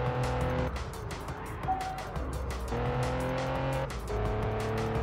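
A car racing in Test Drive Unlimited on PS2, its engine droning loudly and shifting pitch as it scrapes along a wall, with occasional impacts and tire noise throughout.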